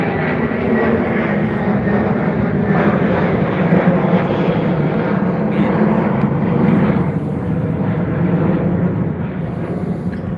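A British Airways airliner at London Heathrow gives off a loud, steady jet roar that holds for the whole stretch, broad and unbroken, with faint outdoor background around it.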